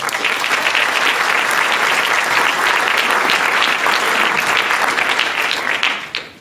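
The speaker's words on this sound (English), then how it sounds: "I'd like to get a big round of applause for them as well." Dense, sustained applause from a gala conference audience fills the room, steady and loud for several seconds before tapering off at the end.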